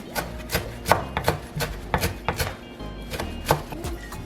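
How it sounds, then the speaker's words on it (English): Fresh parsley is chopped with a knife on a board in a run of about a dozen crisp, uneven thuds, close and clear with no talk. "So I have a handful of parsley which I'm going to chop."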